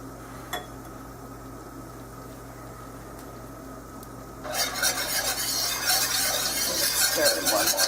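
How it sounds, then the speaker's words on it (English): Liquid is poured into a pot of browning beef stew, and a loud, bright sizzle bursts up and keeps hissing and bubbling after a quieter stretch of faint stirring. "See, it's sizzling."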